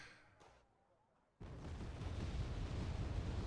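A barrage of MLRS rockets in Wargame Red Dragon: after a fading rumble and a brief lull, a sudden loud, dense roar of launches and blasts erupts and holds steady to the end.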